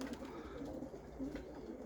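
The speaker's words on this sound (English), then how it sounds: "these are young birds" Young, recently weaned roller pigeons coo softly in low, repeated throaty notes, a few calls spaced across the moment at close range amid quiet background hiss.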